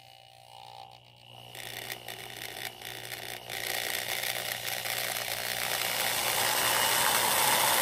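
A power drill grinds steadily into metal, rising in intensity as it bites deeper, with a dense whirring roar and no voices.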